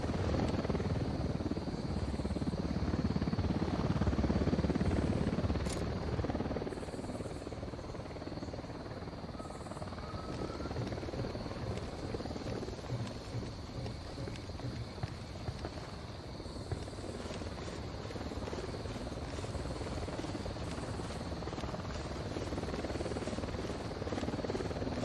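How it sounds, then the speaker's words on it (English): A helicopter's rotor drones steadily throughout in the video game Ghost Recon Wildlands, loud and close at first, then settling into a constant chopping hum as it hovers overhead. "Helicopter, get down."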